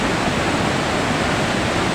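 Floodwater roaring at Bhimkund, a loud, unbroken broadband rush of fast-moving water filling the whole soundscape without pause.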